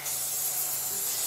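A continuous aerosol spray-paint can hisses steadily at close range for a second or so, held six to eight inches from a stencil, with no talking.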